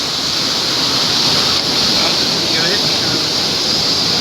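Floodwater rushes through a washed-out breach in the Ghodegaon–Paranda road, a loud, steady roar with no pause, close by.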